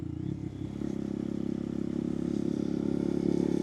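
A Honda Monkey 125 motorcycle runs steadily while being ridden, a close, continuous low engine drone with a slight lift in pitch partway through and faint rattly mechanical clatter, no talking.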